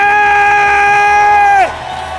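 A church congregation cheers in acclaim, with one loud, sustained voice holding a steady tone before it slides sharply downward and breaks off, leaving a lower wash of crowd noise behind.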